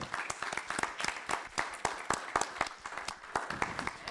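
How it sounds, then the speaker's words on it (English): A seated audience applauds panelists at a symposium on AI and the First Amendment, a quiet, moderately distant spread of individual claps with uneven rhythm filling the few seconds. "If you could please join me in a round of applause to thank our panelists."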